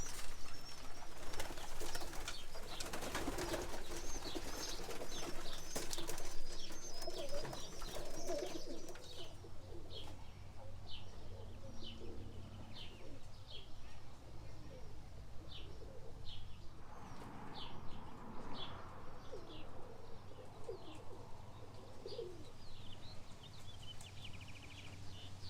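Young pigeons coo softly in a training loft, their low murmurs and short calls repeating at intervals. Faint rustling and wing movement come through in the background.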